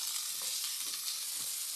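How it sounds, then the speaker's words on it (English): Chicken stir frying in a pan, a bright, continuous sizzle with faint scraping as the pieces are stirred, close and steady, with no talking. "Frying, you stir fry so it doesn't burn."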